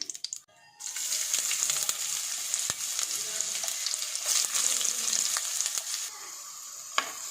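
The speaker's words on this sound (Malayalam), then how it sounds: "ഇനി ഇത് നമുക്കൊന്ന് ഇളക്കി കൊടുക്കാം. ഇത് നന്നായിട്ടൊന്ന് വഴറ്റിയെടുക്കാം." Chopped onion, garlic and ginger sauté in hot oil with fenugreek, a steady close sizzle broken by occasional stirring scrapes and clinks, with no talking.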